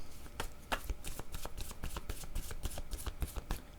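A deck of word cards riffled and shuffled by hand, close and quiet, a rapid run of crisp flicking clicks and soft slaps with no talking.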